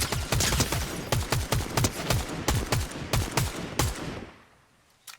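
Rapid bursts of gunfire aimed at another player in Fortnite Zero Build, loud and close, firing in repeated volleys for about four seconds before fading out, with no talking.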